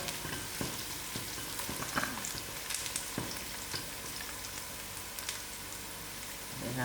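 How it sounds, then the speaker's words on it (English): Whole spices, including cinnamon stick, bay leaf, star anise and cardamom, frying in oil as the base of a hot, dry venison curry: a steady close sizzle with scattered crackles and pops, no talking. "Allow this to fry for a few more minutes."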